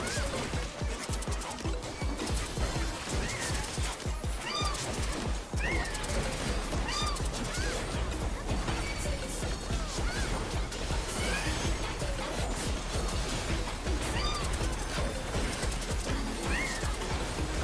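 Cat enemies in the Final Fantasy XIV raid battle meowing and yowling repeatedly over dense combat effects and music, the cries recurring every couple of seconds amid a loud, busy mix.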